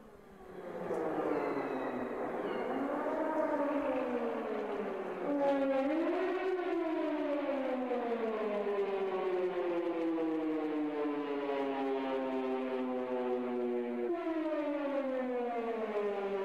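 Long wailing siren tones attributed to the Siren Head creature, rising and falling in slow sweeps with layered harmonics, echoing loudly and continuously with no voices.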